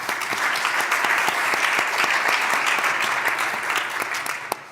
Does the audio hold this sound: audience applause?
yes